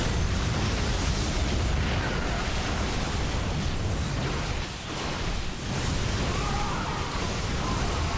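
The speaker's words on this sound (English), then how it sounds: "Anti-armor missile to the center." Anti-armor missiles blast the center of the map in a StarCraft 2 free-for-all king of the hill match, a dense continuous roar of explosions and rumbling bursts, loud and sustained with a brief dip midway.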